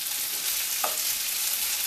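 Potatoes frying in rendered pig lard for a Great Depression-style hash brown dish, a steady close broadband sizzle with fine crackling throughout and one brief brighter pop near the middle.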